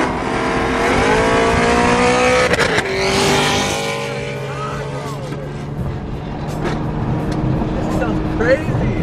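A Nissan R35 GTR and a twin-turbo Lamborghini meet on the street, one engine revving hard and roaring loudly and steadily before easing off, with people talking over the noise.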